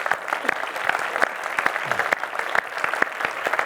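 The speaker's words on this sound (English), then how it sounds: "One big final avalanche of applause for everyone here." Audience applause at the close of a live talk session, a steady wash of many hands clapping with sharp individual claps standing out, fairly close and continuous with no voices over it.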